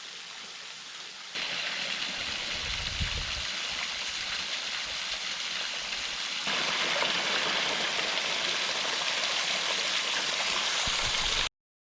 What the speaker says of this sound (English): The next stop is Owens Creek Waterfall.